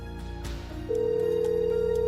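A telephone call goes unanswered. A few faint clicks give way to a steady, loud electronic tone that holds unbroken to the end, with no voices.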